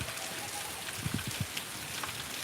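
Heavy rain falls steadily as a dense, even hiss, with a few louder low thumps partway through.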